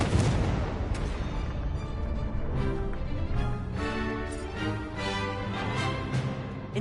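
Spell-duel effects from a wizarding video game, with Incendio fire spells cast back and forth: a dense, continuous roar of booming, crackling blasts that stays loud throughout.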